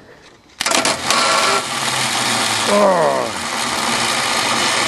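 A 1977 Dodge van cranking on a cold winter start: the starter grinds in loudly and steadily for several seconds, the engine catching into a rough running roar, with a brief exclamation from a voice at the start.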